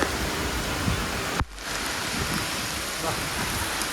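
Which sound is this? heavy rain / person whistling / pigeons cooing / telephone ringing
heavy rain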